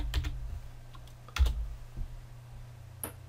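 Keys clicking on a computer keyboard as a folder name is typed in Windows 10: a few quick taps, a short burst near the middle, then one more tap, close and fairly quiet.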